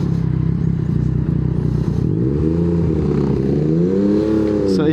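A Yamaha MT-09 version 3 motorcycle with its three-cylinder CP3 crossplane engine idles loudly up close, then revs in smooth rising and falling sweeps.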